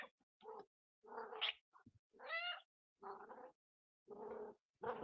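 A cat meows several times in close succession, short harmonic cries with one higher, rising call in the middle, fairly near and moderately loud, with no talking over it.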